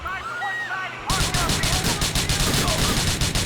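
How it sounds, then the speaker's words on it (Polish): Gunfire aimed at the player in GTA IV: after a quieter second, a loud, rapid burst of repeated shots crackles steadily close by for the rest of the moment. "Strzelają do mnie."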